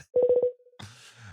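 A telephone being dialed for a call, a quick run of five electronic tone beeps followed by a lingering tone and then a faint line connection hiss with low hum.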